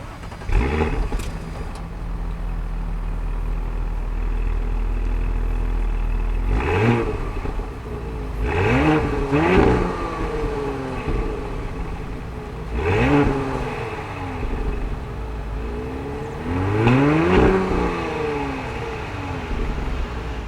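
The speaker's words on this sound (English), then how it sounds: "And guys, this exhaust sounds really good." A 2021 Audi SQ5 with a quad exhaust revs hard several times, each loud blip rising and falling over a steady idle, with no talking.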